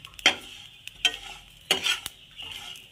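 Sesame seeds stirred while roasting in a pan with chilies, heard as several brief scraping, rustling bursts separated by short pauses, close and fairly quiet with no talking.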